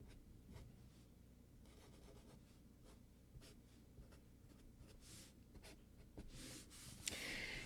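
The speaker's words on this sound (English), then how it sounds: "let me draw up the typical circuit" A marker scratches and rubs across a board while a MOSFET circuit diagram is drawn, in short irregular strokes and squeaks, faint and close, with no talk.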